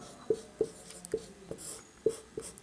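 Marker or chalk strokes on a board during a Hindi grammar lesson, a series of short taps and scratches spaced roughly every half second, fairly close and clear with no talking over them.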